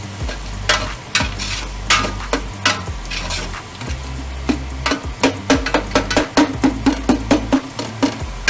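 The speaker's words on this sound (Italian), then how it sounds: "cominciare a dipanare la matassa di lardo e vedremo che piano piano si scioglierà in gran parte." Lard melting and frying in a pan for a tapulone stew, with sizzling under repeated scraping and stirring strokes that speed into a quick, rhythmic series of close, sharp scrapes.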